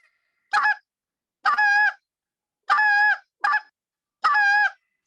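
A short reed goose call blows the spit note: five clipped, honking bursts, each a sharp, abrupt punch of air, spaced unevenly with silence between them, loud and close.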